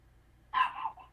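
A dog gives a single short bark, sharp and moderately close against quiet background hum.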